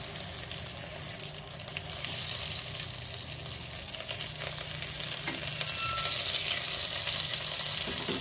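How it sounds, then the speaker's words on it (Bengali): Hilsa fish fry in hot oil in a pan, giving a steady, dense sizzle that stays close and even for the whole stretch, with faint clinks and no talking. "এবার আমি উল্টো পিঠটা ভালো করে ভাজা ভাজা করবো"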